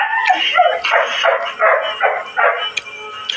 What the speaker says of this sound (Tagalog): Ang ingay talaga sa aso pag magkain kami.